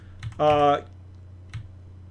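Computer keyboard keys pressed while working in Norton Commander on an emulated DOS PC: a few isolated clicks spaced apart, close and moderately loud, with a brief voiced sound between them.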